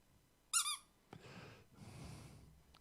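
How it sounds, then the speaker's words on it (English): A squeaky pig toy lets out one sharp, high squeak near the start, loud and close, followed by softer rustling handling noise and breathy background. "Tonight is Squeaky Pig night."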